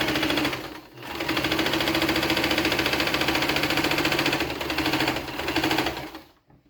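A domestic sewing machine runs loud and close in a fast, steady mechanical whir, stopping briefly near the start and then stitching continuously to the end with slight surges.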